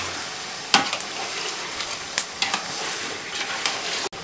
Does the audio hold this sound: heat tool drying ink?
no